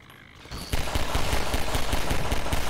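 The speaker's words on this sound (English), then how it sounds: "Guys, out of the way, that's a turret." Automated turret gunfire in Half-Life 2 during a prison fight at Nova Prospekt, a loud, rapid burst of shots that starts after a brief quiet moment and runs steadily to the end.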